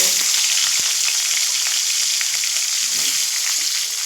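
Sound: potatoes frying with turmeric and salt

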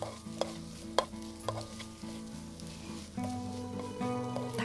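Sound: stirring and frying chicken with onion in a pan

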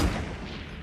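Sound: sniper rifle test shot in Fortnite video game

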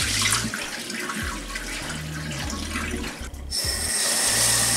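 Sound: rice being washed under running tap water

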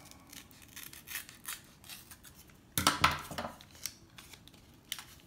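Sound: cutting open a card pack with scissors

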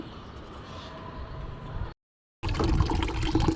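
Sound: water running while washing a bitter gourd

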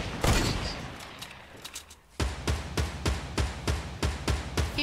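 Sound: gunfire during a battle in the video game Fortnite

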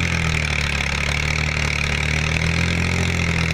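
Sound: Massey Ferguson 7250 50 HP tractor engine running

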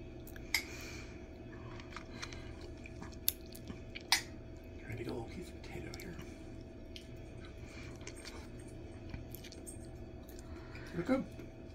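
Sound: chewing while tasting Irish pot roast and vegetables

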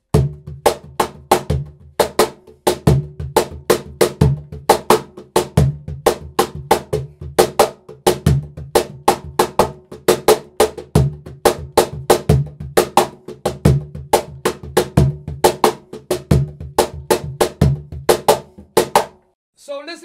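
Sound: cajón pattern played along with conga rhythm

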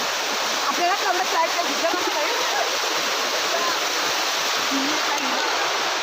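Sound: waterfall in a Kokan village

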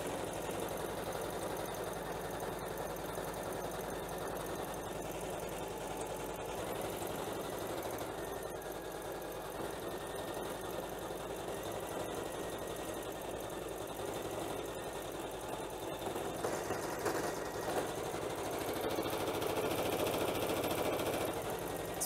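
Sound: Janome embroidery machine stitching letters on terry cloth

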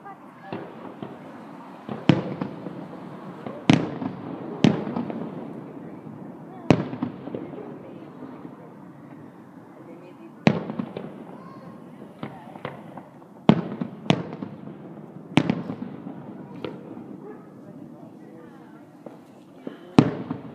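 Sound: fireworks exploding

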